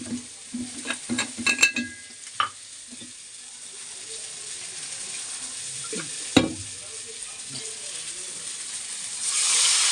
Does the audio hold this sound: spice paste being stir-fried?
yes